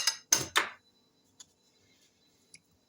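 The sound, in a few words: stirring eggs, sugar and salt with a fork in bowl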